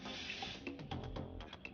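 Water poured into a moi moi mixture of blended beans and seasoning in a bowl, a soft, steady trickle and splash close by, running continuously for a moment with small gurgles.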